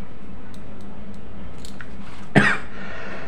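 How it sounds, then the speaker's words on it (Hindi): A single short cough stands out against a steady background hiss, close by and fairly abrupt. "सॉरी खांसी आ रही"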